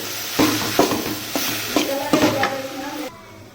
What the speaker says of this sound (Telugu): కారం పొడి వేసుకొని బాగా కలుపుకోవాలి